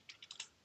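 A computer keyboard is typed on in a quick run of four or five light clicks, ending in a sharper keystroke, close and with no talking.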